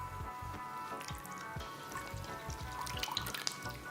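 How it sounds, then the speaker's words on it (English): Fresh lemon is squeezed by hand for a citrus vinaigrette, with close, wet drips and trickles of juice falling in a quick irregular patter for a few seconds. "we're going to have a nice, freshly squeezed lemon. 2 squeezes."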